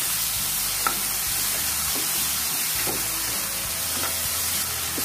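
Chopped vegetables and tomato fry in a pan for a Jain veg vermicelli dish, giving a steady loud sizzle broken by several soft scraping stirs, with no voices.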